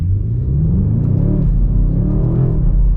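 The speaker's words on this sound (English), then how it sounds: "Gosh, that was like half throttle to 45. This thing is a rocket." A 2026 BMW M5 in Speed Yellow accelerating at half throttle, a loud deep engine rumble with rising harmonic tones as revs climb, heard close and steady from inside the car.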